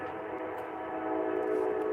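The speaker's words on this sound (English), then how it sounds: "excuse the train." A passing train heard outdoors beside private property: a steady, moderately loud rumbling drone with sustained horn-like tonal hum running through the whole stretch, growing slightly louder toward the end, with no talk over it.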